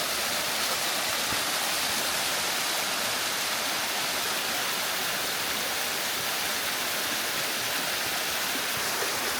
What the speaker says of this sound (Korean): 여기가 청룡폭포